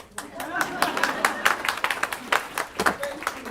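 Audience applause at a community action event, steady mid-loud clapping from a room of people lasting throughout, with voices mixed in.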